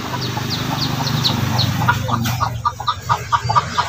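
Pure labuyo wild junglefowl hen being clucked, a run of short, rhythmic clucking calls close by, growing clearer and more evenly spaced toward the end, over steady low background noise.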